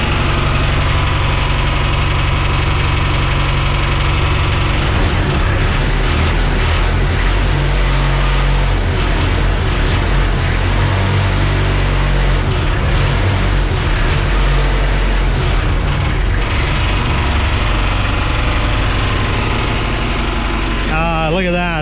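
Engine on a 2005 O'Brien hydro jetter trailer running steadily at idle, a loud, close, continuous rumble with a slight lift partway through before it cuts at the very end.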